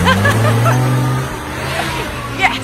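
A Jeep grinds its engine through an off-road obstacle, a loud, steady motor drone close by while people talk and cheer over it.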